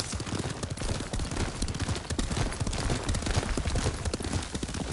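Horse hooves clip-clop steadily while riding in the Ghost of Tsushima video game, a continuous close galloping patter under a dense, noisy game soundscape.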